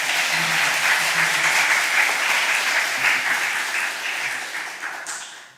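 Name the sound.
church congregation applause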